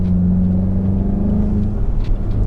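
A VW Golf MK7 GTI engine runs close by with a loud, steady low drone and a humming tone. The pitch shifts slightly and pulses a little toward the end.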